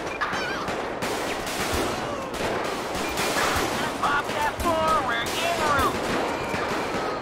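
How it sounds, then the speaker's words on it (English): Gunfire in the video game GTA 5 during a highway patrol roleplay: a dense, continuous clatter of rapid shots and sharp cracks, with voices talking over the fighting. "Shots fired."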